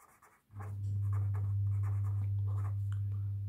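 Pen scratching on paper while solving a written maths problem, a series of short close strokes over a steady low background hum, with no talking.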